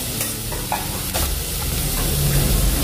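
Spices are stirred into a frying wedding-style potato and aubergine curry, a close sizzle broken by scraping spoon strokes and soft clacks against the pan, with no one speaking.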